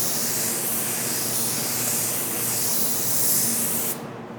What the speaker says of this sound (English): I'll spray one more light coat on that